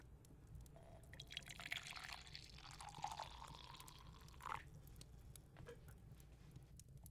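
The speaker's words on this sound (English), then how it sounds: "Just add a bag into each mug and pour the water on top" Hot water is poured from a kettle into mugs holding tea bags, a faint, soft trickling and dripping heard up close in a quiet room, with small splashes along the way.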